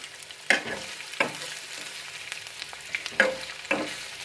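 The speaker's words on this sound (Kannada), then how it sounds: "ಹಾಗೆ ಈರುಳ್ಳಿ ಕರಿಬೇವು ಹಸಿಮೆಣಸಿನ್ಕಾಯಿ ಹಾಕ್ಕೋತಾ ಇದ್ದೀವಿ ಅದು ಎಣ್ಣೆಯಲ್ಲಿ ಚೆನ್ನಾಗಿ ಫ್ರೈ ಆಗಬೇಕು" Onion, curry leaves and green chilies frying in oil for a simple toor dal make a soft, low sizzle, broken by several sharp scrapes and clinks of a spoon being stirred through the pan.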